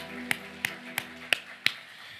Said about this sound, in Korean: 큰 박수로 주님 경방 그러리 그러리 할렐루야.